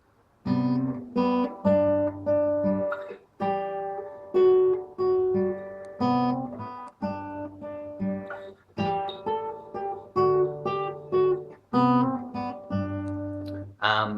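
Acoustic guitar playing a song, strummed chords with picked melody notes in a steady rhythm, clear and close with no voices.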